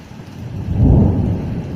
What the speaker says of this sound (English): Thunder, you're scary motherfucker.